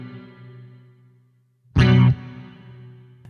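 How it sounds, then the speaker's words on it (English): Electric guitar through an Axe-Fx with stereo delay summed to mono, a sustained note that swells suddenly into a loud, phasey burst before settling back to a thinner tone. "This is a perfect example of phase cancellation."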